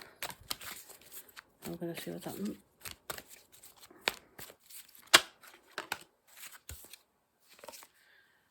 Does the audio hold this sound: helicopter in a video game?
no